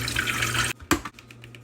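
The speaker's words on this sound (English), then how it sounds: "These potatoes aren't really touching the water at all, so I'm gonna add some more water." Tap water pours into a pot of sweet potatoes being topped up for boiling, a steady close splashing stream lasting under a second before stopping, followed by a few clinks and small splashes.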